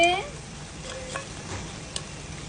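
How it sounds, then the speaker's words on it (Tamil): A ladle stirs spicy honey mutton with coriander leaves in a pan, a soft sizzle under faint scraping strokes and a light clink or two of the ladle on the metal. "நிறையா மல்லித்தாள் போட்டு நல்லா கிண்டுங்க"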